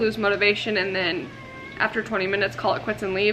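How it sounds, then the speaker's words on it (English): A pet cat meows twice in a room, short tonal cries that overlap a woman's speech, with one clear meow in the middle between her words. "That was my cat."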